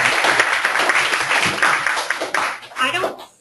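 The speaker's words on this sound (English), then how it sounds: "another round of applause for Jim" A webinar audience gives a brief round of applause with dense clapping that tapers off unevenly. Faint voices and a soft chuckle come through near the end.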